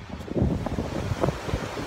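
Wind and waves along the English seaside chalk cliffs near Margate, a steady blustery rush with rolling surf bursts, close and fairly loud against the microphone.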